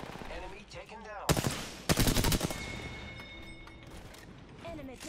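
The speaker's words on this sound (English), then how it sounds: "The enemies are shooting at me." Enemy automatic gunfire in Apex Legends, two sharp, loud bursts of rapid shots in quick succession, with game voice lines and other speech heard before and after them.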